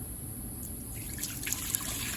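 Two cups of water trickle and splash softly into a pan of baby back ribs, a faint, steady liquid pour with a few small drips, heard close under a low hiss.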